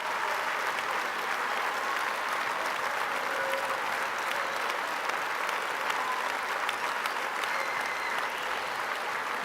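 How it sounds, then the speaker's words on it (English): A conference audience on its feet gives a standing ovation after a talk by Francesco Tonucci, dense sustained applause filling the hall evenly and continuously from start to finish. "Up on your feet, a big round of applause for this incredible talk."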